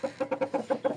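A rooster and chickens give a quick run of about eight sharp, evenly spaced clucks, close and clear with no voices.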